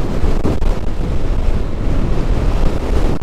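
Strong wind buffets the microphone on a Honda PCX scooter ride through foggy hills, a loud, constant roaring rush of air that fills the whole stretch, with no one speaking.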